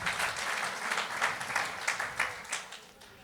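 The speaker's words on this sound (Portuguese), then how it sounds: "Uma salva de palmas para Jesus." A church audience applauds for a little over three seconds, a steady patter of many hands with a few louder bursts, heard fairly close and with no talking over it.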